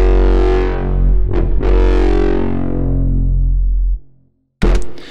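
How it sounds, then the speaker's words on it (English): Foghorn-style bass patch built in the Vital synthesizer: two loud, distorted, droning blasts, the first held for about four seconds and fading out, followed by a brief silence, then the second starting abruptly. "So that's how I made this Foghorn."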